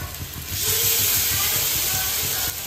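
Pancake batter shallow frying in a pan gives a steady, close hissing sizzle that swells after a short pause and holds evenly, with faint voices in the background.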